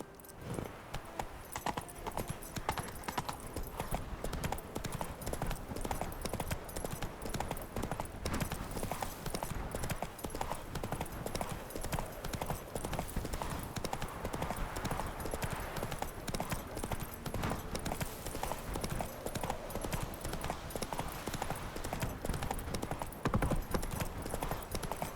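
Horse hooves from The Witcher beat a continuous rapid clip-clop for the whole stretch, fairly quiet but steady, with a brief whinny-like note at one point.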